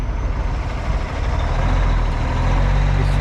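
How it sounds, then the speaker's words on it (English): A Mack truck with a Cummins engine hauling a flatbed loaded with stone rumbles steadily and close by, with a deep, continuous engine drone that swells slightly and holds loud. "He's pulling a Mack flatbed."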